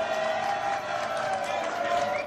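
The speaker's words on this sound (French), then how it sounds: "Applaudissements s'il vous plaît" Studio audience applause on a French television talk show, a steady wash of clapping and crowd noise at moderate level, continuing evenly with a sustained tone running underneath.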